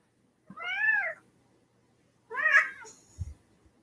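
A cat gives two clear, close meows about two seconds apart, each a rising-then-falling cry, followed by a soft thump in an otherwise quiet room.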